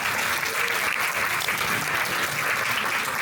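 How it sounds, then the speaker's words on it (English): A round of applause at a university business society gala, a steady, even wash of many hands clapping at moderate distance, unbroken for the whole moment with no voices. "I just want us to give another special round of applause for Ms."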